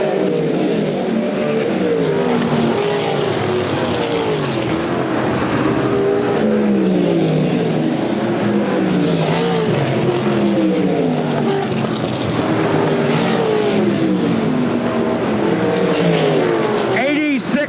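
A USAC Silver Crown race car engine drones steadily at the DuQuoin, Illinois track, with a commentator talking over it throughout, the motor noise rising and falling as it passes.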